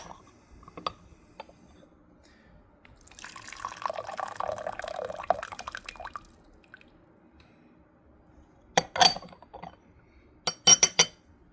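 Near-boiling water at 97°C is poured over raw Gaoshan Puer leaves in pre-warmed teaware, making a soft sustained splash for a few seconds, followed later by sharp porcelain clinks and drips.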